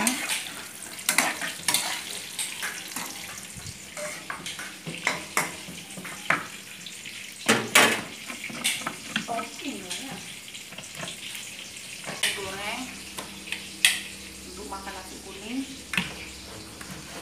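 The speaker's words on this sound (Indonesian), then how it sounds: "Ya, tahunya saya goreng." Tofu fries in a pan with a soft sizzle, broken by sharp clatters and stirring clinks, while a person talks over the cooking.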